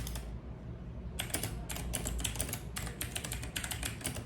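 Fast, steady keystrokes clatter on an HP GK320 mechanical keyboard, close and crisp over a low background hum, with no voices.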